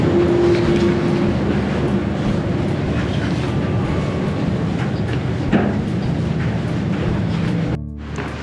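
A Seoul subway Line 1 train gives a steady, loud rumble of rolling stock with rail noise and brief squeals, cutting abruptly quieter near the end; no one speaks.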